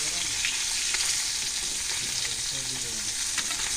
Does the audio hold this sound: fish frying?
yes